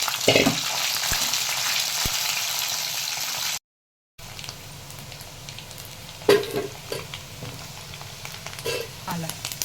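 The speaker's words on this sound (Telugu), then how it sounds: "ఆయిల్ వేడెక్కిన తర్వాత చికెన్ వేసేసుకోవాలి గోల్డెన్ కలర్ వచ్చే వరకు ఫ్రై చేసుకోవాలి" Chicken pieces sizzle loudly in hot oil for chicken pickle, a dense hissing fry that briefly cuts out, then returns quieter with occasional stirring clatter.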